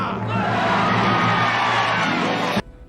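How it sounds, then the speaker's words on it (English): A dense crowd cheers and whoops loudly and continuously for nearly three seconds, a broad roar of many voices that cuts off abruptly near the end; individual claps are not clearly distinct. "rows of people just waving and clapping and just generally loving me"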